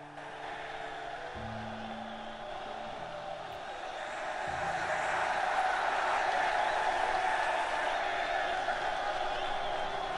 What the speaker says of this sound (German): Ja, die jubeln immer noch.